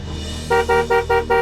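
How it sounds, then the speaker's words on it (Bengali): A car horn honks four times in quick, evenly spaced blasts, loud and close over a low engine hum. "এত জোরে হর্ন বাজাবেন না"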